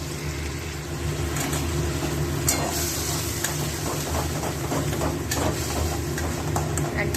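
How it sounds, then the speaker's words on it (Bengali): Spice paste of turmeric, Kashmiri chilli powder and green chilli is fried in oil for a moong dal, bottle gourd and egg curry. It gives a steady, close hissing sizzle with faint crackles over a low constant hum, and no voices. "এবার মশলাটাকে ভালো করে কষাবো।"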